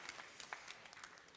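Applause from a church youth congregation during a Sunday youth service, a steady spread of many hands clapping at moderate distance, fairly soft and even throughout with no talk over it.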